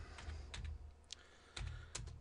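Computer keyboard typing, a short quiet run of a few soft key taps entering a search term.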